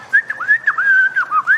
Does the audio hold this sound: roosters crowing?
no